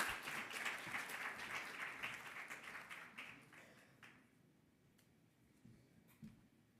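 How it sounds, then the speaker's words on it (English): Audience applause at a small enterprise development and finance agency event, brisk clapping that starts fairly strong and thins out to scattered claps before fading. "let's give them a massive round of applause."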